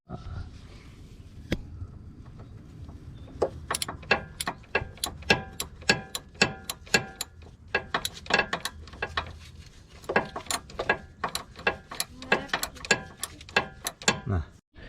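Ratcheting socket wrench turning the belt tension pulley on an Infiniti I35 during drive belt replacement, giving rapid runs of sharp, close clicks in irregular bursts with brief pauses.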